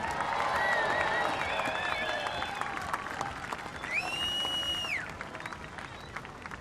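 Beachside crowd at a Lower Trestles surf contest applauds and cheers the runner-up, Kanoa Igarashi, as a steady wash of clapping with a loud sustained whistle and voices mixed in, fading slightly toward the end.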